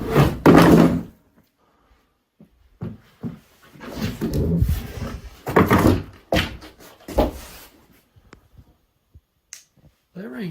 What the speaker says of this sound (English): That door fell down again.